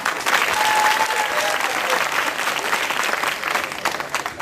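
Loud, sustained audience applause fills the room at a church feast-day celebration, a dense wash of clapping that holds steady throughout, with a faint whistle-like tone briefly riding on top.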